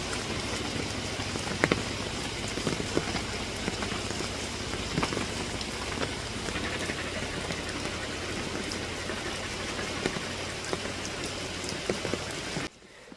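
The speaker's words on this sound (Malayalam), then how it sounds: "വൈകുന്നേരം ആയപ്പോഴത്തേക്കും ഇവിടെ നല്ല രീതിക്ക് മഴ പെയ്യുന്നുണ്ട്" Steady evening rain pours down, with a dense patter of drops on surfaces and occasional louder splashes, cutting off abruptly at the end.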